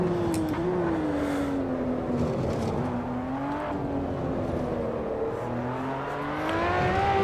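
LaFerrari engine in the Assetto Corsa racing game at Spa-Francorchamps, a steady loud high-revving drone rising and falling with gear changes, holding near and constant throughout with no talk.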